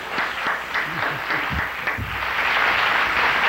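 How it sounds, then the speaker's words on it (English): A Chicago audience applauds a veteran Sun-Times columnist with a steady, full round of clapping and cheering. It swells toward the end, and a few voices sound underneath. "Let's have a big Chicago round of applause for Rick Telander"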